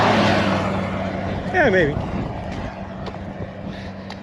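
Cars and a loud truck drive over a ribbed bridge deck, a steady broadband road roar with a louder passing swell midway, heard beside a subway walking route while people talk briefly.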